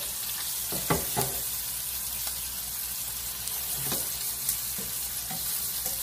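New York cut steak sizzles steadily in a hot frying pan, a continuous close crackle with a few louder pops and spits scattered throughout.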